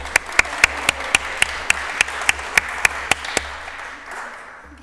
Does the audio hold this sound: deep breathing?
no